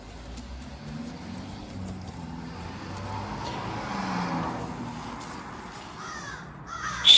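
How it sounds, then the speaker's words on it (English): Crows cawing in repeated harsh calls at a moderate distance outdoors, over faint background traffic hum, with a louder clatter right at the end. "Ah, the crows are busy today."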